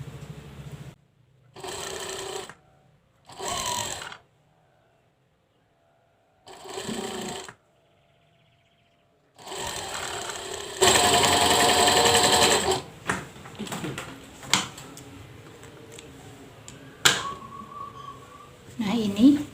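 A sewing machine stitches fabric in short bursts at first, then in a longer steady whirring run, with scattered clicks and handling noises between stitches.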